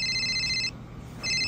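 A telephone rings through a call placed after dialing a number with a *67 prefix; two clear ring bursts, an early one and another starting near the end, separated by a quiet gap, loud and close.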